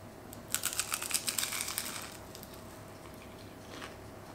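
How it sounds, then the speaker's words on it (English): Close, quiet crunching bites into a flaky Portuguese custard tart (pastel de nata), a quick run of crisp crackles fading into softer chewing, with no talking. "I'm gonna taste it."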